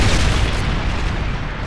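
In Call of Duty: Modern Warfare 3, a Predator missile strike lands with a loud, close, rumbling explosion that booms heavily at first and then rolls away into a fading low roar.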